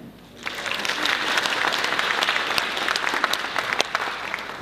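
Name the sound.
applause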